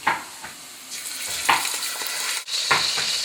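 Vegetables dropped into hot grease in a pot, with bursts of sizzling and a few clanks of utensils against the pot.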